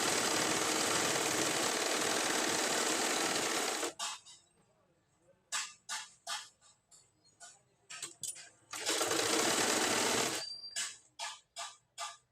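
Sewing machine stitching a plain blouse, running in two long loud continuous bursts of fast rattling stitches, with short clicks and handling taps in the pauses between.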